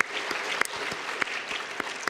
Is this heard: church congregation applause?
yes